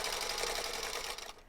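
A sewing machine runs continuously, stitching a scant-allowance seam on a quilt block, a close, fast, even whirring clatter that stops abruptly near the end.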